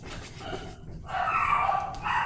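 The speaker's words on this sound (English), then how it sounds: "So JJ going downstairs made the dogs bark." Dogs in a house bark in a few sharp, fairly close bursts, with a brief pause between volleys and no talking over them.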